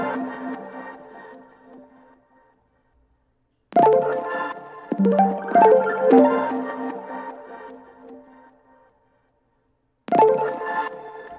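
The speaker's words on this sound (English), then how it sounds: "which is these really full chords on a pluck that I strummed." Full chords on a strummed synth pluck in a rage beat: moderately loud bright chord strums with rolled attacks, ringing and decaying between phrases, separated by pauses of near silence, no talking.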